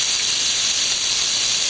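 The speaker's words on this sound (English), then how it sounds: "we cook the onion during 5 minutes" Onion cooking in hot vegetable oil in a pot, a loud, dense, unbroken hiss of sizzling oil heard close up with no voices.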